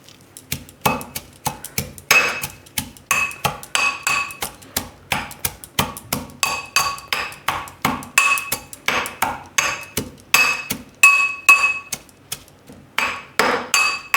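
Masala and green coriander pounded in a mortar for a Gujarati raw tomato dish, a steady run of loud, sharp pestle strikes with a faint metallic ring, repeated about twice a second throughout.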